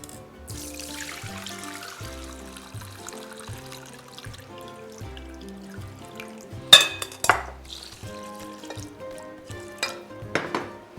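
Water from washed rice is poured off through a strainer, a soft trickling and dribbling at first, then a few sharper splashes and clatters near the end, close by with no talking.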